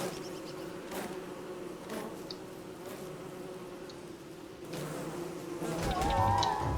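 Steady insect buzz of wasps in the game Don't Starve Reign of Giants, a continuous droning hum close by that swells slightly louder toward the end, with no voices over it.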